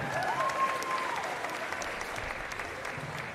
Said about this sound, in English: One more round of applause for the Titan dance team.